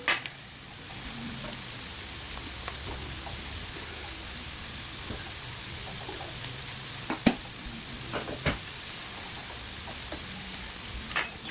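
Carrots fry in a pan with a steady close sizzle and occasional soft clinks and stirring taps, with no talk.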